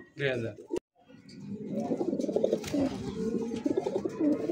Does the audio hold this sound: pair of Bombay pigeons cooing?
yes